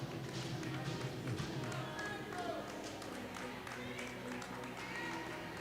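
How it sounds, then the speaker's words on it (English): Arena crowd at a women's ACHA ice hockey game between Michigan State and Colorado, with a steady, dense roar of cheering and clapping, scattered thuds and taps, and voices mixed into the noise throughout. "MSU crowd really getting into it here"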